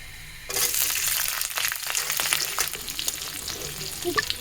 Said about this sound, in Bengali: রসুনটা আমি একটু ভেজে নেব এখন আমি দিয়ে দেব পেঁয়াজ